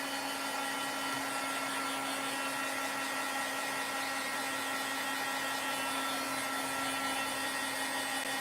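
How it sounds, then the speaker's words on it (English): A heat gun blows steadily on watercolor paper to flatten it, a continuous loud airy roar with a faint electric hum that holds unchanged from start to finish, with no talking over it. "I'm just going to hit him with the heat gun to make him flatten out again"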